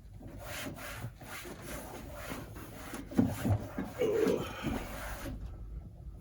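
A magic eraser scrubbing dust off the casing of a Commodore B Series 8296 8-bit computer, making a soft, quiet, uneven back-and-forth rubbing with a few firmer strokes toward the end.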